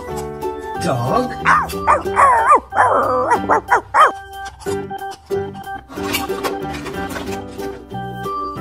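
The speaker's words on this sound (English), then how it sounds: "Dog." A farm animal toy plays a run of recorded dog barks, several quick yappy barks close up, with light music tones continuing underneath.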